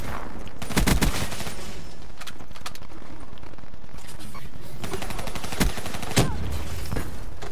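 Explosive thumps and bursts of gunfire from the China Lake grenade launcher in Call of Duty: Black Ops III, with several sharp, loud blasts scattered across a steady game soundtrack.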